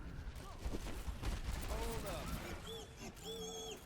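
Bastion firing its gun in Overwatch, heard as rapid bursts of game gunfire over a busy mix of effects and a talking voice.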